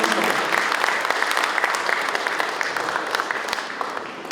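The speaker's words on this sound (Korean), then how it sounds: "박수 한번 크게 보내주십시오." A large audience at a provincial governor's report event on the APEC summit bursts into dense, sustained clapping that holds steady and eases slightly toward the end.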